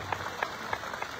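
Audience applause at a church service, heard faintly and at a distance: a soft, even patter of clapping with a few sharper claps standing out at a regular pace.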